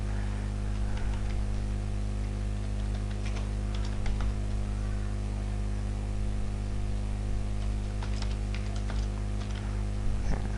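A group name being typed on a computer keyboard, with scattered light key clicks in short bursts over a steady electrical hum and hiss.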